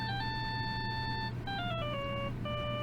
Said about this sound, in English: All of a sudden, the phone began to ring.